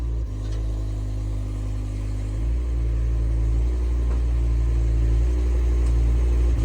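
A car with a BMW V10 idles steadily as it rolls slowly backward off a trailer, the low engine drone loud and close with slight swells in throttle.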